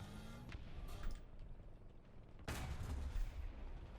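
A tank cannon firing in the War Thunder video game, heard as a sudden loud blast midway that rolls into sustained rumbling, after quieter battle noise with a few earlier thuds.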